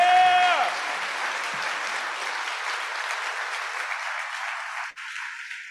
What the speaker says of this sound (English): I think we should give this panel another round of applause